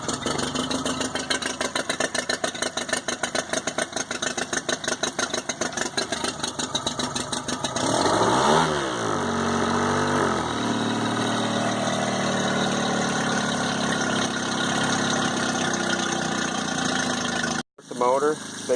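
A Mercury 15hp four-stroke outboard motor cranks and catches, then settles into a steady, close mid-pitched idle, with a quick drop and restart near the end and a voice heard at points.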